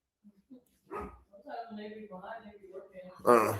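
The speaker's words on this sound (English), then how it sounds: "Oh, she's barking at the mail lady." A dog barks at a mail carrier, a few yips and a burst of barking heard under someone talking nearby, with a louder bark near the end.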